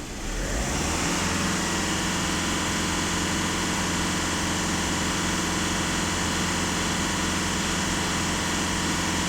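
A Skoda Octavia 1.6 TDI diesel engine, checked before cleaning its DPF emissions system, is held at about 2500 rpm. Its loud, steady drone rises in the first half-second and stays even, close up, with no talk.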